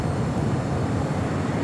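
Heavy airliner rolling for takeoff on runway 25 right at LAX, a steady broad engine roar that stays loud and even throughout with no break or voices.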